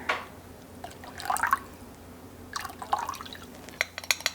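Rice vinegar trickles into a stir fry sauce in short bursts of liquid pouring and splashing, with small drips and light clinks of glass between them, close and fairly quiet.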